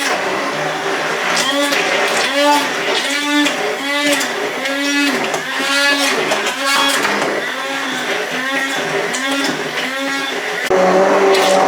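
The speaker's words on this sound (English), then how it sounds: "then we're going to go in with the hand blender again." A hand blender whirs through honey mustard in a home kitchen, running steadily and loudly for several seconds with a pulsing, churning rhythm, close up and alone.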